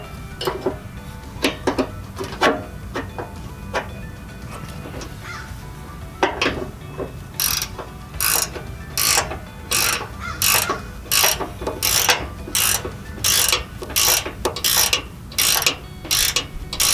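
Repeated ratchet clicks from tightening bolts on rock sliders of a 2019 Ford Ranger, starting as scattered, irregular clicks, then settling into a steady back-and-forth cranking rhythm, close and crisp over a low background hum.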